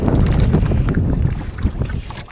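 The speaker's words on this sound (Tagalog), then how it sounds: "Unang-una yung makina natin, palyado." A misfiring boat engine at sea on a fishing trip, rough uneven sputtering under heavy wind and water noise, loud and close, with no voices.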